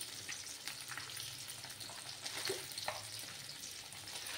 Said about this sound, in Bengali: মাছগুলো আমার ভাজা হতে থাক।